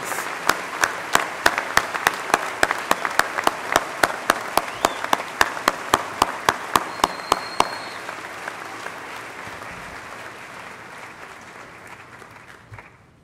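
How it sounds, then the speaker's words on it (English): A commencement ceremony audience applauds honors graduates at a spring afternoon ceremony. Dense crowd applause is punctuated by one close, loud, rhythmic clapper, then the clapping thins and fades toward the end. "help join me in applauding these outstanding students"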